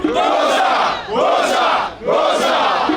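Large crowd at a political rally roaring and cheering in three loud surging waves, each swelling and easing off, dense and sustained with no single voices standing out.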